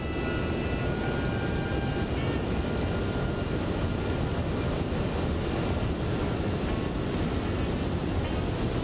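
An MD-11F freighter in the X-Plane 12 flight simulator cruises over Memphis, giving a constant, loud, broadband engine roar with no variation and no voices.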